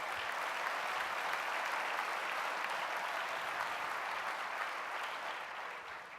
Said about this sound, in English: How about a round of applause for Chris Plazinski and what they did to help the University of Minnesota